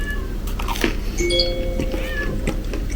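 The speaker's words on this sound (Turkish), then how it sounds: "Kedi sesi de duyuyorsunuzdur umarım." A cat meows a few times indoors, thin and drawn out, over a low steady background hum.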